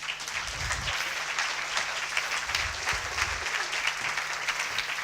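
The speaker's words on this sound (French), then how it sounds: "e à me rejoindre sur scène Georges Champeur, que vous pouvez applaudir." An audience applauds as a guest is called up on stage, a lively, continuous clatter of many hands with a few louder bursts and faint crowd murmur mixed in.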